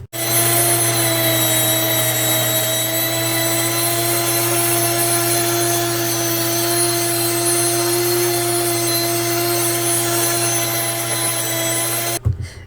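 An electric grain mill grinds red winter wheat in a home kitchen with a loud, steady, high-pitched motor whine that runs continuously for about twelve seconds before cutting off abruptly.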